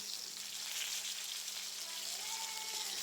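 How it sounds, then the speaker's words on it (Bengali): Chicken fries in a pan with a steady, even sizzle that stays fairly quiet and continuous throughout, with no talking. "তো আমি ভাবলাম চিকেনটা ভেজে নিই, ছেলেকে নাস্তা করে দিই।"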